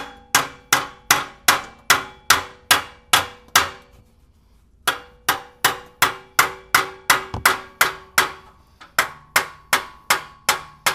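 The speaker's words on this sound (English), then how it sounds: "we'll just tap and pry until it comes out" Sharp metallic hammer blows strike the exhaust J-pipe of a 2007-09 Acura MDX in quick, even bursts, with one brief pause between runs, ringing close and loud.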